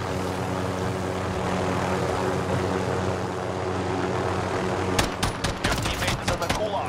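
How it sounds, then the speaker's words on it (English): Helicopter in the video game Call of Duty: Modern Warfare, a steady rotor and engine drone running throughout, joined near the end by sharp bursts of gunfire. "No! The fucking chopper!"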